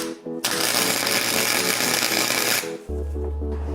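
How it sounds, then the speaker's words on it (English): A 120 amp Chicago Electric wire welder tack welds a sprocket, giving a loud, steady buzzing crackle for about two seconds between short pauses, with a low machine hum afterward. "fire up our 120 amp Chicago Electric welding wire welder and weld this thing together"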